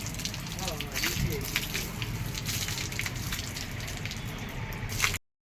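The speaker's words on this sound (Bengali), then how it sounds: "তো বন্ধুরা নারকেলটাকে এখন ভালো করে ধোয়া হচ্ছে।" A coconut getting a thorough wash under water, with close splashing, dripping and squishing handling noises running steadily until an abrupt cutoff, and a voice talking over it.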